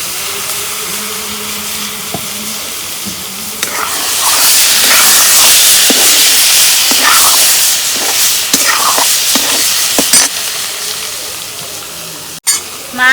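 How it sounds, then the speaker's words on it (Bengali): Mirka fish frying in hot oil with fried spices: salt, turmeric and green chili paste. A loud, steady sizzling hiss starts a few seconds in and continues with small crackles. "মশলা ভাজা শেষ, এখন আমি মাছ দিয়ে দিই।"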